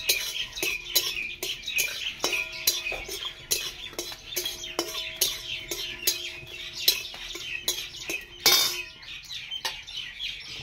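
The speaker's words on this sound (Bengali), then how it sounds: "এই গোটা মশলাটা শুকনো কড়াইয়ে ভেজে নেব।" Whole spices dry-roasting in a dry wok, stirred with a utensil: close, irregular metallic clinks and scraping taps that come in quick clusters over a quiet background, with no talking.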